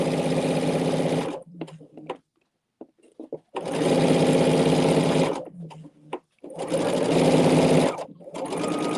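Sewing machine stitching strips of quilt fabric together in three steady, loud runs of several seconds each, separated by short pauses with faint handling sounds.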